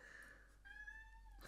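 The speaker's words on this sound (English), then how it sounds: "A cat's crying." Somewhere nearby a cat gives a thin, drawn-out crying meow that shifts pitch partway through. It is faint and carries through a quiet room, and there is no talk.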